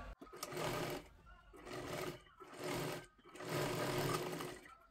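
A sewing machine runs three steady bursts of double stitching along a katori blouse, with brief pauses between runs; the motor whir is close and fairly loud.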